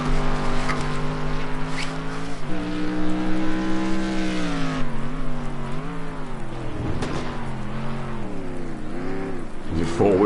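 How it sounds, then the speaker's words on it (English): A British GT race car at Snetterton four-wheel drifts into the hairpin, its engine note droning loud and near, pitch sliding down under braking and swelling as it revs, with a commentator talking over it. "Four-wheel drifts it into the hairpin."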